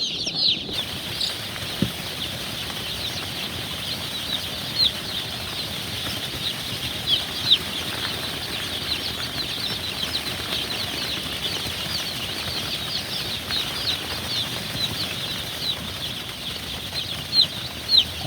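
Brown Bounty chicks in a brooder, wings flapping and soft clucks and peeps forming a steady, busy texture, with occasional louder flutters throughout and no talking.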